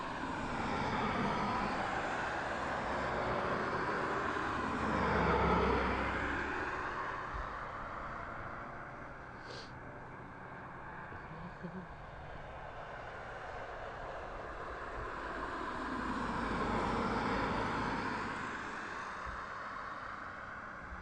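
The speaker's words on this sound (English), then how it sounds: "Wish that BizJet departing out as well." A business jet departing East Midlands Airport, its engine roar swelling as it passes, easing off midway, then rising again into a broad, steady rumble heard from a distance with no voices.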